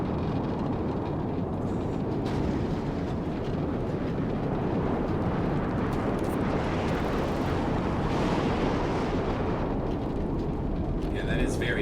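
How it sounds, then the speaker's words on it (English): Loud, roaring wind in the Mad Max video game's Australian wasteland, a dense broadband rush that holds steady throughout, with brief gusts and faint in-game effects on top. "Yeah, that is very loud wind."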